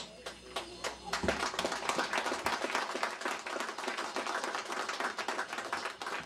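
An outdoor crowd claps at a community pavement inauguration ceremony in Yacxap, Soloma, the dense, continuous applause starting after a few scattered claps and running steadily throughout, with a voice heard over it.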